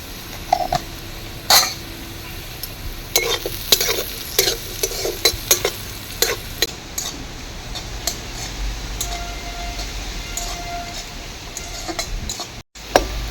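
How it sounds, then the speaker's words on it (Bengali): Carrots frying with salt and turmeric powder in a pan, a steady background sizzle broken by repeated scraping stirs from a spatula, with an occasional cough and a soft clank of cookware. "গাজর ভেজে নেব। অল্প লবণ দিয়ে দিচ্ছি আর হলুদ গুঁড়ো।"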